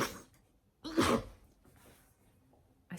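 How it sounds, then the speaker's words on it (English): A woman gives a small, breathy sneeze, one soft intake followed by a short sharp burst, close and quiet in a still room, with another faint breath at the end. "I sneeze like a cat."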